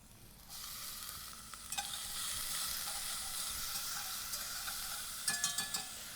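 Garlic and onion frying in olive oil in a pot over medium heat: a steady close hiss of sizzling throughout, with a few light clinks of a whisk scraping the pot, and nobody speaking.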